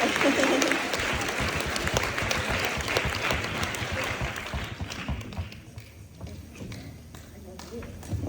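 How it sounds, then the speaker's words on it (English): An audience applauding guests at a talk, a thick wash of clapping that carries on under a speaker's voice and gradually thins and fades in the second half. "Give them a hand of applause"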